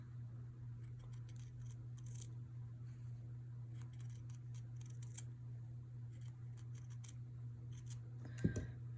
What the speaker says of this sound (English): And cut all the layers, that netting and that back fabric.